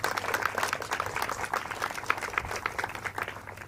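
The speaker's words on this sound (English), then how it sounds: "please give them a round of applause" Wedding guests applaud the newly married couple at a ceremony held in an airport hangar, a steady, dense patter of many hands clapping at moderate distance throughout, with no talk over it.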